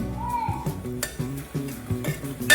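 Vegetable curry being stirred in a pan as water is added, with scraping and clinking of a spoon against the metal pan, a low sizzle and bubbling underneath, and a sharp clank near the end.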